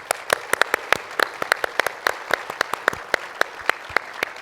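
A small group at an annual meeting and luncheon gives a round of applause for past chairs, with distinct, sharp individual claps in a brisk, uneven rhythm, close and clear.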